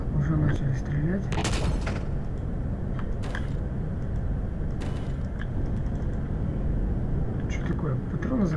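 Gunfire in the space survival game Empyrion Galactic Survival during an attack on a base on Omicron Moon: several sharp, loud shot bursts over a dense, steady background of game noise and a voice.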